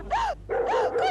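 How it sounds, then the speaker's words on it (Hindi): A dog barks on a comedy set, three sharp, close barks in quick succession with brief gaps between them. "कुत्ता।"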